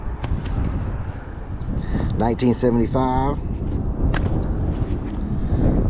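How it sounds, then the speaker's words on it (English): Outdoors during a house clean-out, gusting wind buffets the camera microphone with a low rumbling roar throughout, while someone speaks briefly over it. "The wind's picking up here a little bit, so hopefully it's not, the camera's not picking that up on the sound too much"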